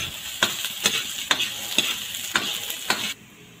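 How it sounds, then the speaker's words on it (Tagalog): Garlic and onion sauté in oil for beef pares while a spoon stirs them, giving a close, steady sizzle broken by about seven sharp scraping clacks that repeat at a regular rhythm before the sound drops away at the end. "Magigisa na nga pala ako ng bawang at sibuyas. Hahaluin ko lang yan ng konti hanggang sa mag-golden brown."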